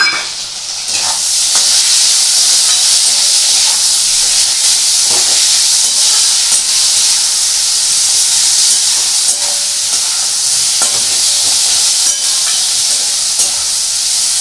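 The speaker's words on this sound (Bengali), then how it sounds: "যতক্ষণ এই টমেটোটা ভাজা হচ্ছে" Tomatoes frying with browned onions in hot oil, a loud, steady, close hiss of sizzling that holds evenly throughout with faint occasional stirring ticks and no talking.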